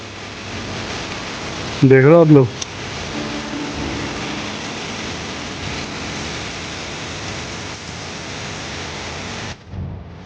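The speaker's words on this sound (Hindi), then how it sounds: "बहुत इतनी तेज बारिश पड़ गई भाई साहब, एकदम से बारिश पड़ गई खतरनाक वाली" Heavy rain pours steadily as a broad, loud hiss across the whole stretch, with someone speaking briefly near the start over the downpour.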